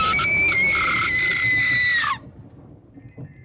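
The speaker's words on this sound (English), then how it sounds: "Jessica's piercing shriek rang out." Jessica, a character in the video game Umineko, gives a piercing, sustained high shriek for about two seconds. It cuts off sharply into quiet background sound.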